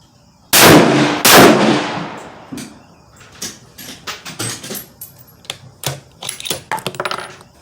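Savage 110 Tactical rifle fired at a target: two loud, sharp shots close together, each with a ringing decay, followed by a run of lighter clicks and knocks nearby.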